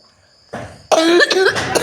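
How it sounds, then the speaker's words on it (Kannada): A person with a bad cough coughs hard several times in quick succession, loud and close, with no talking around it. "ನಮಗಂತೂ ಕೆಮ್ಮು ಭಾಳ ಹತ್ತೈತ್ರಿ"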